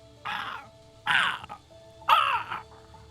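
Birds flying in to roost on a dead tree give three harsh, crow-like cawing calls about a second apart, moderately loud against a quiet background.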